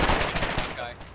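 Warden rifle fire in the war game Foxhole, a short, close volley of several loud shots in quick succession that trails off toward the end.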